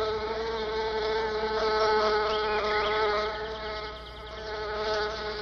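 Small male bees drawn to a scented orchid hum in a continuous, steady buzz close to the listener, the drone wavering slightly in pitch as they hover.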